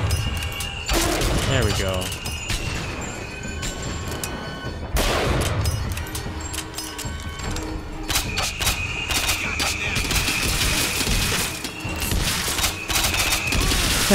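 Rapid gunfire in the video game Bioshock Infinite: repeated loud shots and bursts in a close firefight, with heavier blasts early on and someone talking over the shooting.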